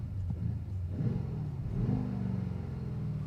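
A Mercedes-AMG GLE63 S engine revs with no rev limiter, its deep rumble swelling and easing through a couple of rising pulls, heard close from inside the car.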